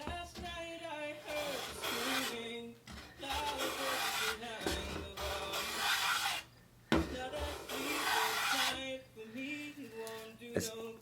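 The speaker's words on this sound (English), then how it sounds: "It's making really thin cuts, of course I'm working the edge." Hand tool shaving thin cuts along the edge of a wooden Greenland paddle, a steady run of close, dry rasping strokes with short pauses between them.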